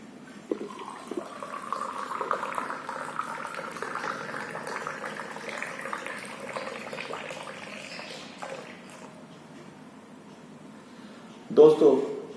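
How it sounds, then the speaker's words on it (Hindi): Water is poured steadily into a small ritual well holding a silver elephant, making a soft, continuous close-up trickle that fades toward the end before a brief louder clatter. "कुएं में पानी भर देना है ऐसे"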